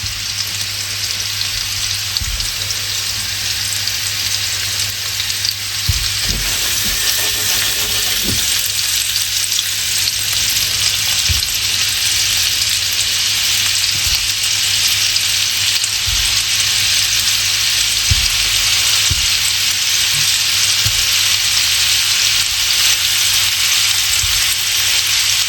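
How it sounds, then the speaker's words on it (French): Meatballs fry in oil in a pan, giving a constant loud crackling sizzle throughout, with occasional soft knocks and shuffles as the pan is shaken; no speech. "je secoue un petit peu ma poêle pour répartir l'huile dedans"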